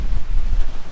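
Strong gusts buffet the microphone outdoors beside a lake at Glendalough State Park in Minnesota on a windy, mild day, a loud continuous low rumble with no speech.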